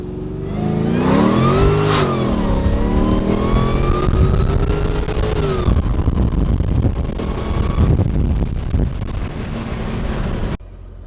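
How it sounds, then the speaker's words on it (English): Supercharged M113K V8 in a Mercedes E55 AMG with a belt wrap installed revs hard with windows down, a rising supercharger whine climbing over loud engine roar and wind rush, then easing off before cutting out. "We'll do one with the windows down so we can hear that supercharger whine."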